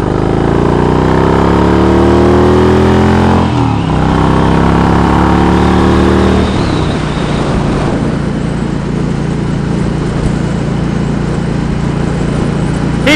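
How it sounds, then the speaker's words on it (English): Motorcycle being ridden, its engine droning loudly and steadily throughout with shifting pitch as it revs, then a rougher, noisier stretch of wind and road rumble in the second half, with no talking. "All right, moto freaks, we are back on the bike."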